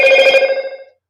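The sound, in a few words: loud ringing from a Bluetooth speaker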